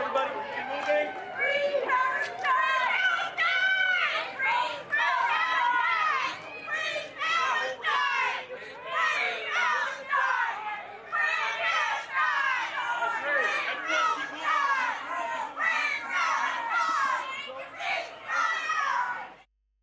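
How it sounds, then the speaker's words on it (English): A loud, dense crowd chants "ceasefire now, free Palestine" at Joe Biden as he leaves a venue, mixed with some cheering. Rhythmic shouted bursts rise and fall continuously and close by, ending abruptly. "There were people cheering Joe Biden there, but there was a crowd chanting, you heard it, ceasefire now, free Palestine"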